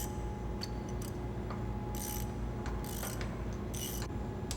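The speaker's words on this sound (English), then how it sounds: "The swing bolts are positioned, tightened," Swing bolts on a Harpoon missile canister being tightened aboard ship, intermittent metallic ratcheting clicks and scraping over a steady loud machinery hum, with no talk.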